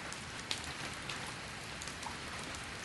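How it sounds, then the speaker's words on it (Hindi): Heavy rain falls in a steady, dense broadband hiss with a few sharper drop spatters, moderately loud and close, with no voices. "बहुत तेज बारिश हो रही थी।"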